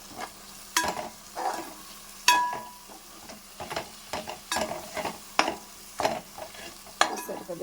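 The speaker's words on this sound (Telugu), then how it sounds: "ఇప్పుడు మంచిగా కలుపుకుందాం." A spoon stirs masala with coriander powder in a pan for a fish curry, with irregular scraping knocks and brief clinks against the metal over a faint low sizzle.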